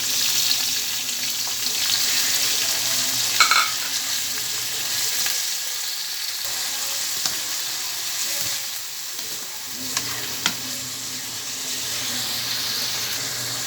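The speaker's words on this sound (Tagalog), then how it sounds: "At ilagay na natin ang pork." Pork fries in a pan for ginisang upo, giving a steady, crackling sizzle close up with a few faint clinks of stirring.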